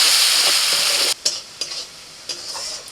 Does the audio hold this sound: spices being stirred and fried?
yes